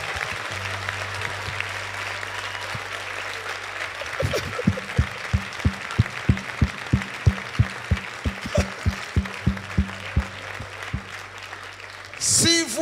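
A church congregation at a charismatic service claps for a singer, a steady rhythmic beat of loud hand claps over a sustained low organ drone, with a person talking faintly underneath.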